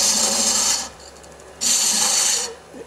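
A spindle gouge cuts a cove into wood spinning on a lathe, two loud hissing bursts of shaving separated by a brief quieter pause, close up with no talking.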